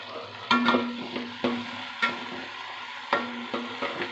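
Tomatoes with salt fry in a pan for a Nellore-style fish curry, a soft sizzle broken by several sharp stirring scrapes. No one speaks.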